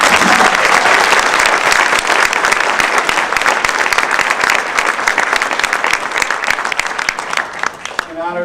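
Sustained applause from an audience honoring award recipients at a ceremony, dense steady clapping throughout and fading slightly near the end.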